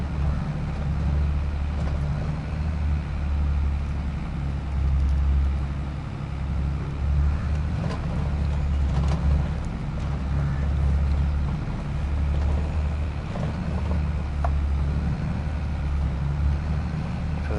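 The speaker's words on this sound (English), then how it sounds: "So the tractor sounds inside the cab are a lot quieter." A tractor engine rumbles from inside the cab in Farming Simulator 22, a steady low drone with a muffled, even hum and only slight fluctuations throughout.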